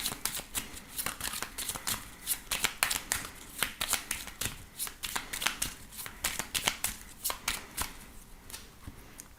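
Belline oracle cards being shuffled by hand, a steady run of crisp riffling snaps and slaps close up, repeating quickly without pause and with no talking.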